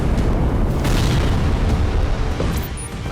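Explosion from a Russian strike on a building at a Ukrainian military site, a loud, heavy rumbling blast that fills the moment before easing slightly at the end.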